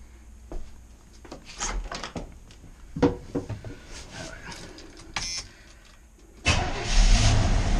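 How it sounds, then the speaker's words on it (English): A car engine is cranked and started after an HEI distributor install: a few clicks and clunks come first, then the engine turns over and catches into a loud, steady running roar close by. "let's see if the vehicle starts at least"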